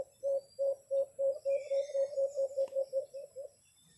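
A decoy bird in a bird hunting setup gives a steady run of about a dozen short, evenly spaced coos or chirps, fairly close and clear against a quiet outdoor background.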